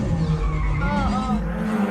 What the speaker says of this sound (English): How can he drift so perfectly?